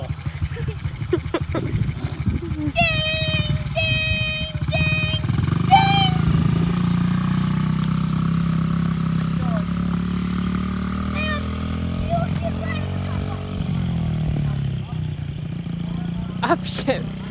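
A dirt bike engine idles and revs steadily and close by while a child learns to ride, with people talking and calling out over the continuous motor drone.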